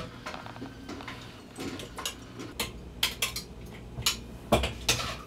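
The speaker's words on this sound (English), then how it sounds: "So I'm going to use the tongs to grab" Metal tongs clink against hot glass canning jars while carrots and daikon are moved in for pickling, a series of light irregular clatters and taps growing sharper toward the end.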